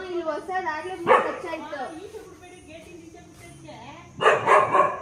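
Dogs bark in short bursts around a newly moved-into house, near and fairly loud, with people talking over and between the barks.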